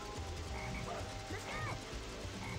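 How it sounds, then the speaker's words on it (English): A black frog in the Sonic Heroes video game croaks in repeated bursts, set against a steady bed of game music and background sound. "Hey, there's that black frog again. That black frog is evil."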